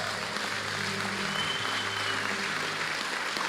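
Steady applause from a church congregation, continuous and even throughout, with no voices standing out.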